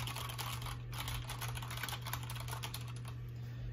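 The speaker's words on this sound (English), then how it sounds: "So that is what Cherry MX Brown switches sound like." Mechanical keyboard with Cherry MX Brown switches on a 60% Matrix board, typed steadily with dense, even clicks and clacks over a constant low electrical hum, no talking.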